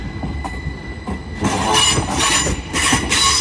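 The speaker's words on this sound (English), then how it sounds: "Departing now is your 1025 Northern train service, starting here at Doncaster, working a service to Leeds." A Northern passenger train pulls out of Doncaster station on the East Coast Main Line bound for Leeds, with rail rumble swelling after a second into a steady, close roar and faint high squealing from the wheels.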